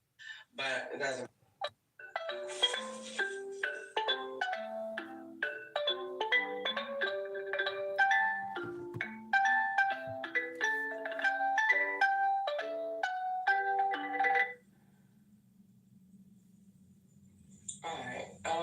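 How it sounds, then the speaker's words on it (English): A mobile phone ringtone plays a bright, bouncing melody of quick tonal notes for about fourteen seconds, then stops and leaves a low hum and a few faint sounds. "I don't even know if that was my phone ring"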